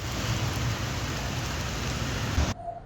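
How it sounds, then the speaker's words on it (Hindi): Heavy continuous rain pours down in Peshawar, a loud, dense, unbroken roar of downpour that cuts off abruptly near the end. "मुसलसल मूसलाधार बारिश हो रही है"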